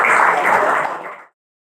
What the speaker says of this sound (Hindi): जोरदार तालियों का स्वागत करेंगे